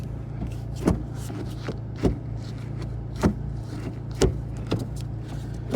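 A 2022-or-later Honda Civic manual gear shifter fitted with an Acuity short throw adapter and centering spring clicks through gears in firm, regular clunks about once a second over a low idling hum, with no talk.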